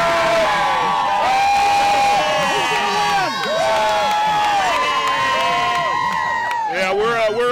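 Large crowd of TCU baseball fans cheering and shouting loudly at a night game against Texas A&M, a continuous roar with whoops and rising yells, swelling again near the end, with voices mixed throughout.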